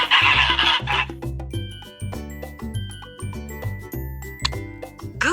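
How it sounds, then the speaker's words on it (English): A brief goose honk in a farm-animal quiz for toddlers, a short harsh call at the start that gives way to bright, chiming children's music. "Goose."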